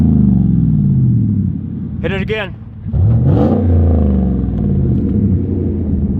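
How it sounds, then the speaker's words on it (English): A Chevy Silverado 1500 with a freshly installed dual exhaust revs loudly and close, a deep steady rumble rising in bursts over the idle, while people talk briefly over it. "Okay, as you see, the exhaust is all done. Dual exhaust."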